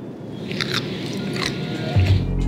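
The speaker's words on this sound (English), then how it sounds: "Cucumbers are crunchy" Close, wet chewing of crunchy dill cucumber aboard an Air Canada 787 flight, with a few crisp crunches, steady bites over a couple of seconds with no talking.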